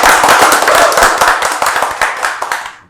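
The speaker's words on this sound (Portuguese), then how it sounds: "uma salva de palmas para ela!" A small group clapping for a colleague on a podcast set, brisk close hand claps with distinct individual slaps, loud at first and gradually dying away to silence.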